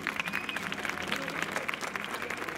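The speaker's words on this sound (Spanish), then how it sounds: "Venga, un aplauso a toda la gente de la hostelería." An audience claps and applauds at a chirigota performance in Ronda, a dense, steady patter of many hands heard fairly close, with some crowd voices mixed in.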